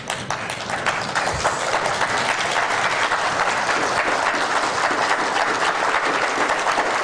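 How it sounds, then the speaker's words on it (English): A standing audience at a teachers' event gives a loud, sustained round of applause, dense and even from start to finish. "give a round of applause to our exceptional teachers"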